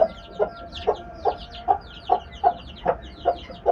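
A hen clucks in a regular rhythm, about two clucks per second, while soft high peeps from chicks chatter throughout.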